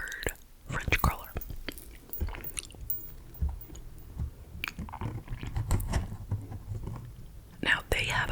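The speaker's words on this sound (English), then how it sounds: "Now let's try the chocolate covered French cruller." Chocolate-covered French cruller donut from Dunkin' being bitten and chewed close to the mic, soft wet mastication and squishy bites under quiet whispering.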